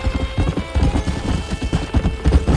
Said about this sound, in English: Come on, Mr. Marston, pick up the pace! Giddy up!